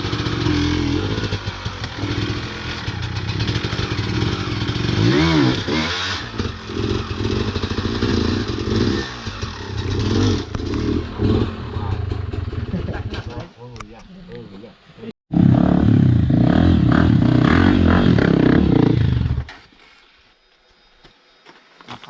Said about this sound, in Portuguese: Vai tirar a moto lá, cara?